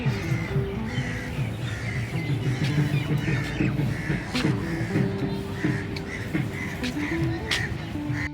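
Crows caw near India Gate in Delhi, repeated harsh calls over busy outdoor crowd noise and chatter, with one bird startled into flight.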